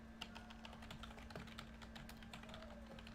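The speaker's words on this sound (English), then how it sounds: "as we type in the projected Orioles lineup" Rapid, uneven keystrokes on a computer keyboard, quiet and close, clattering alone against a faint steady hum with no talking.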